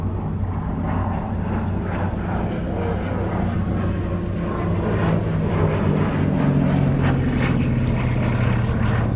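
A biplane interceptor fighter with a fixed undercarriage and enclosed canopy passes over the Shuttleworth air show, its propeller engine droning steadily and loudly for the whole stretch, swelling slightly toward the end, with no voices.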